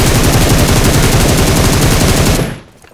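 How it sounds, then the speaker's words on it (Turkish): Heavy weapons fire in a loud, dense stream of rapid automatic shots for over two seconds in the battle royale video game PUBG Mobile, then cut off abruptly into quiet. "Ağır silahlar gelmeye başladı."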